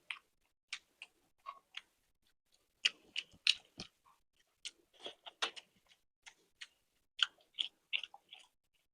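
Close, crisp chewing on a chicken leg served with spicy red chicken curry, a series of short wet crunches and bites in an irregular rhythm, with quiet pauses between.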